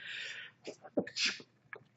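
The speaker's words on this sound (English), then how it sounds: "I'm gonna sneeze again" A single sharp sneeze bursts out, with breathy sniffs and huffs before and after it.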